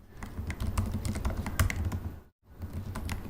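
Rapid clatter of keys on a computer keyboard, dense and continuous with a brief pause near the end before resuming, fairly close and alone.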